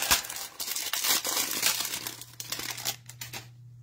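Cellophane wrappers from packs out of hanger boxes of 2021 Optic NFL football cards crinkle and crackle loudly up close in a dense, continuous rustle that stops abruptly near the end.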